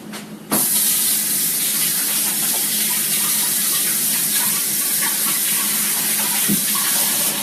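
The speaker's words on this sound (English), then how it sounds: "I'm going to wash my hands real quick." A kitchen tap runs while hands are washed during home cooking. The steady, loud rush of water starts abruptly after a short pause and continues unbroken, close by, with no one speaking.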